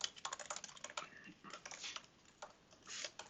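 Quiet, rapid key clicks on a computer keyboard as JavaScript code is typed, an uneven patter of taps with short pauses, close and soft with no talking.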